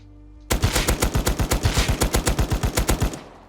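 Sustained burst of rapid automatic fire from the new LMG in the Rust video game: about twenty evenly spaced loud shots lasting roughly two and a half seconds, close and punchy, with no talk over it.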